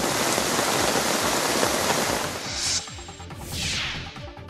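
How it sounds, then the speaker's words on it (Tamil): Rain falling steadily in Salem-area showers, a dense, even hiss of drops on surfaces, fairly close and continuous, with brief louder splashing swells near the end and no voices. "சேலம், திருப்பத்தூர், ஓமலூர் உள்ளிட்ட பகுதிகளிலும் மழை காணப்பட்டது."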